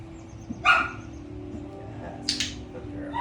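A more extroverted dog in board-and-train rehabilitation gives two short barks, one near and one slightly farther, over steady low background hum with a trainer nearby.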